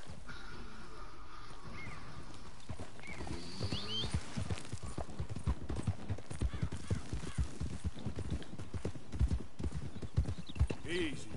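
Horse hooves clip-clop steadily in a PS4 video game, moderately close and growing busier over the stretch, with game ambience and occasional bird calls around them.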